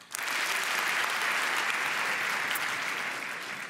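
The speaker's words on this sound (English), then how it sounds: "If you trust Amazon the most," Audience at a conference talk bursts into applause, a dense, sustained clapping from a large crowd that holds steady for a few seconds before tapering slightly.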